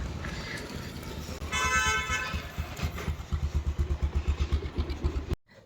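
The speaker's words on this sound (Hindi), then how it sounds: "मैं अतुल के साथ बाइक में जा रही हूँ" A motorcycle engine while riding on a bike, a low, close, pulsing putter with a brief high whine near the start, growing into a rhythmic throb before cutting off abruptly.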